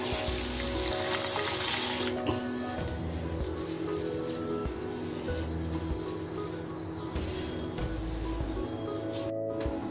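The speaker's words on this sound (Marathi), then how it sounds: "आता हे धुवून घ्यायचो ना आपण" Running tap water pours steadily while food is rinsed and handled at a kitchen sink, a close, continuous splashing hiss with occasional clatter and no talking.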